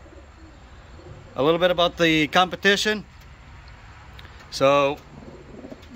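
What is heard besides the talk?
racing pigeons cooing in the loft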